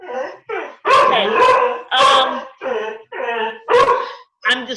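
A dog barking and howling outside, a series of loud, close, drawn-out yelping barks in irregular bursts with short pauses between them.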